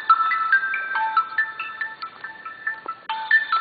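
A phone ringtone plays a bright, repeating electronic melody of short beeping notes, steady and fairly loud, with a brief pause before the tune starts again, and no talk over it.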